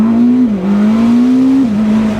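A 1000 hp Ferrari SF90 Spider at full throttle, its loud, close engine note climbing steadily and dipping briefly at two quick gear shifts before pulling hard again.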